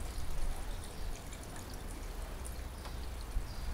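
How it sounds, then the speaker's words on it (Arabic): Water poured into a car engine's reservoir during routine maintenance, a steady close trickle and splash running continuously without talk. "وصب لها الماء لين يولي يشوفها"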